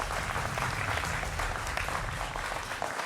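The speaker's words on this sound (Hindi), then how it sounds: "जोरदार तालियों के साथ तमाम मेहमानों का अभिनंदन है" Studio audience at a Hindi television news debate show applauds to welcome guests, a dense, even roar of clapping that stays steady and fairly distant for a few seconds.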